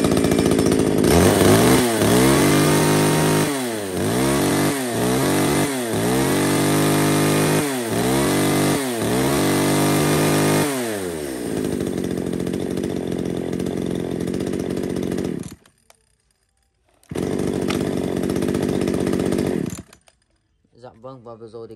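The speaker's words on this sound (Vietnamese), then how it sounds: "chúng em thì đã giật nổ cũng như là test nổ hết tổng cộng một lô máy cưa xích rồi" A batch of used Japanese-import chainsaws from brands such as Stihl, Husqvarna, Shindaiwa and Komatsu, pulled and revved one after another, loud and close, with repeated rising and falling engine whines followed by steady idling.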